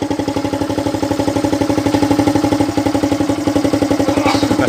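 A motorcycle engine with a vacuum carburetor, its air filter still unopened and its piston valve cut, idles steadily close up with an even, rapid rhythmic chug and faint mechanical clatter.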